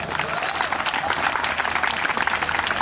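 An audience at a school's annual sports award ceremony applauds its teachers: steady, dense clapping from a large crowd fills the whole stretch at an even, loud level.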